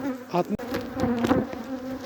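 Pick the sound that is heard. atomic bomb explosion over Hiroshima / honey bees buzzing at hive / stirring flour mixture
honey bees buzzing at hive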